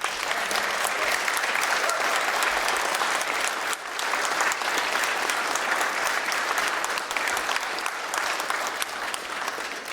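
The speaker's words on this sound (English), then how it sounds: "Please give a round of applause for this year's awardees." Sustained audience applause fills an indoor award ceremony for military warrior athletes, a dense, even clapping that carries on steadily for several seconds with a brief dip partway through.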